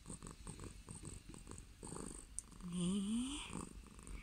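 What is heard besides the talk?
cat purring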